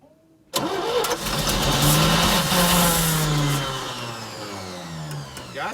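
Old 3-ton grain and gravel truck engine cranking to life, then running loud and rough with a rising rev that settles into a lower, slowly fading rumble, close by with no talk.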